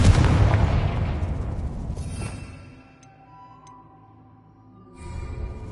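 A Confringo blasting spell from Hogwarts Legacy explodes in a loud, broad boom that rumbles and fades over about two seconds into a quiet tail, followed by a second rising burst near the end.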